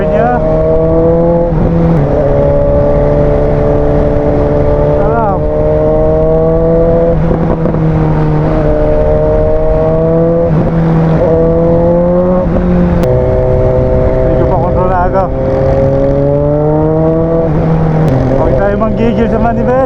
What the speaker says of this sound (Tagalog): diba ang lakas ng backfire niya